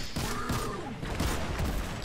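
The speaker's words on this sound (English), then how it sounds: "I'm getting shot over here." Gunfire in Destiny 2, dense overlapping shots and rapid bursts crackling continuously through a noisy firefight, with no clear pauses.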